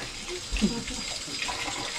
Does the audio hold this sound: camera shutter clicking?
no